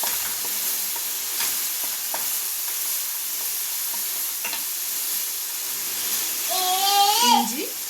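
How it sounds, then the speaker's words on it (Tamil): Ginger and garlic sauté in hot oil for chicken cutlets, giving a soft, constant sizzle with light stirring scrapes, while a voice speaks briefly toward the end. "இஞ்சி, பூண்டு இதை போட்டு நல்லா வதக்கிக்கோங்க."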